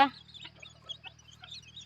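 Bantam chicks raised free-range peep and cluck in short, soft, scattered calls against a quiet background, after an opening burst of louder sound.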